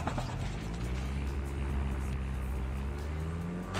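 A car drives toward the player in a multiplayer shooter tournament match, a steady droning engine hum that holds fairly level throughout, with no talk over it.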